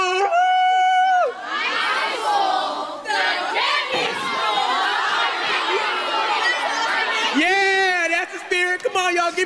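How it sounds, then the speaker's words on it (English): Crowd of high school students screaming and cheering loudly at a live performance, a sustained roar of shouts and whoops lasting several seconds, with a voice over a microphone at the start and end. "let's all scream for high school."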